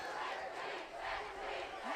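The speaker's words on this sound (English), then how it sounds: "The defense cheer going out right now." A high school football crowd at a Hudson Raiders game against Eau Claire North chants a defense cheer, a loud rhythmic surge of many voices swelling and falling in the stands.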